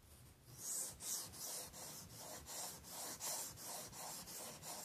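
A kitchen knife is sharpened freehand on a waterstone, giving rhythmic scraping strokes, about ten back-and-forth passes in a steady cadence, close and fairly soft, with no talking.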